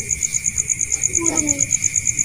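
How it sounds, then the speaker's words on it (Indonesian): A steady high-pitched insect-like trill runs throughout, with a brief bird call in the middle against a quiet outdoor night background near trees and long grass around 2 a.m. "Dan ada suara burung."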